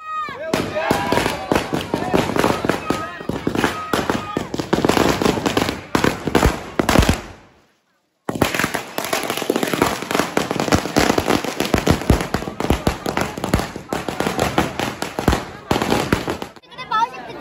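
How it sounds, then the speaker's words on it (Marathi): A long string of firecrackers crackles continuously and loudly at a Ganpati immersion procession, with a brief pause around the middle before the rapid bursts resume. Crowd voices sit underneath. "तिकडे आता फटाक्यांची वाल लावायला घेतलेली आहे।"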